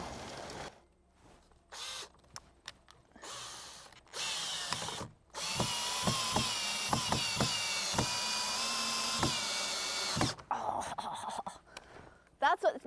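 A power drill drives screws at an angle into a wooden shed-style garbage hutch, with several sustained whirring bursts of the motor and stop-start trigger pulls between them, close by.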